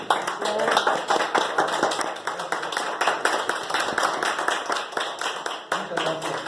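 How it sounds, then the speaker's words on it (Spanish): Audience applause for a guest speaker at a lecture on the Fourth Transformation and its adversaries, a dense steady patter of many hands clapping close by, continuing at an even level throughout. "que lo recibamos con un fuerte aplauso"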